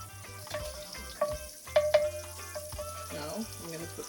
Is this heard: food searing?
yes